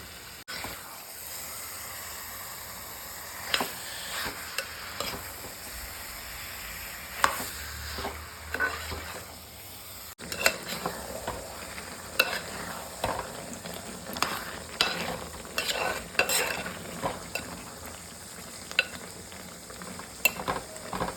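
Chicken marinated in chili powder, pepper and salt sizzles in a pan for a dum biryani, with repeated sharp stirring scrapes and clatters over a soft, steady frying hiss.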